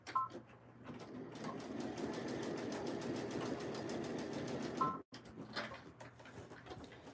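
A sewing machine stitches a tee stuffed with polyfill in a steady rapid rhythmic whirr for several seconds, stops abruptly, then restarts briefly in shorter uneven bursts.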